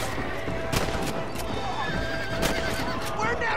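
A horse in the video game Red Dead Redemption gives a loud whinny along with clip-clopping hooves, set against a busy in-game background of ambient noise.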